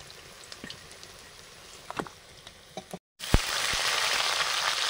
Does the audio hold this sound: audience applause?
no